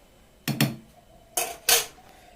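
A spoon clanks twice against a metal pot while stirring boiling rice, each contact a short, close double knock with quiet in between.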